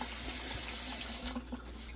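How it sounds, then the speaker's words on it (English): Rinse water pours out of an upturned jar of sprouts as a close, steady splashing rush that cuts off partway, leaving a few last drips. "So you turn it upside down, the rest of that water drains out of there"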